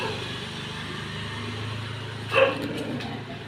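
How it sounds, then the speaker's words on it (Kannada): A dog barks once on a street, a short, mid-distance bark over steady traffic and engine rumble. "ನಾಯಿ ಎಷ್ಟು ಅದಾವ ನೋಡ್ರಿಪ್ಪ"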